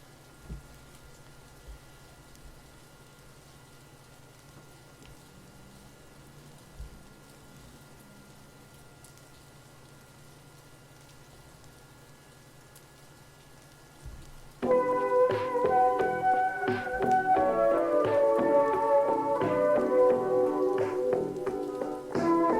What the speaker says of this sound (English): this rain sound